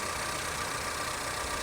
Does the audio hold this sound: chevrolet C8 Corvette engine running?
yes